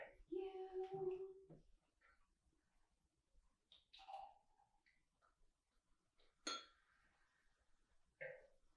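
Glasses clink together in a toast as the first glass is poured. A voice speaks briefly at the start, followed by a few sparse, bright clinks spread over several quiet seconds.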